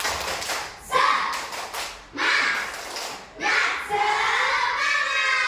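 A classroom of children performs a rhythmic spirit clap, bursts of hand claps and chanted voices in short rising phrases separated by brief pauses, loud and close with a teacher's voice among them.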